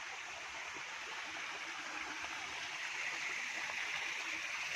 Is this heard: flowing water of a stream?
yes